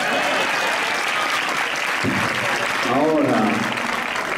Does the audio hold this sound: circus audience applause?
yes